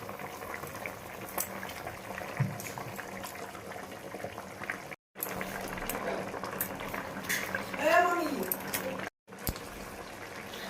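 Spiced water rolls at a steady boil in a pot for silver carp curry, a close, continuous bubbling broken by two brief dropouts and a faint clink of cookware.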